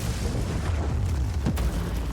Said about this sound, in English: That's an explosion.